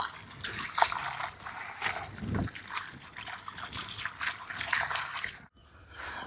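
Palmyra sprouts being washed in water, with continuous close sloshing and splashing and trickling that rises and falls, ending in a brief pause before the splashing resumes.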